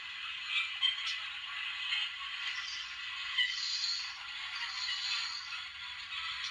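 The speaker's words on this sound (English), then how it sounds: "now that's the flange squeal, I think." Flange squeal from a Dapol Lydham Manor DCC sound-fitted model locomotive comes as a thin, high, wavering screech with small scraping clicks, faint and alone with no low rumble.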